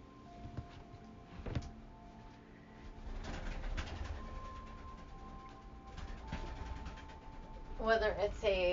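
A pet bird cooing like a pigeon or dove, soft repeated coos rising near the end under a person's ongoing talking, fairly faint indoors.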